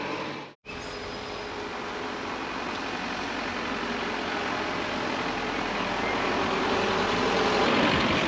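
Heavy vehicle noise builds steadily on a street in Herceg Novi, Montenegro, as a bus draws near, a broad continuous rumble and hiss growing louder toward the end after a brief dropout near the start.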